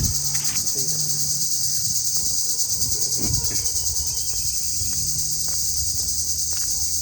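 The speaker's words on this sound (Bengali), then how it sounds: "ঝিঝি পোকার একটা শব্দ শোনা যাচ্ছে পাশ দিয়ে" Crickets chirp in a dense, continuous high trill beside a corn field, steady and close throughout, with faint scattered footsteps and rustling underneath.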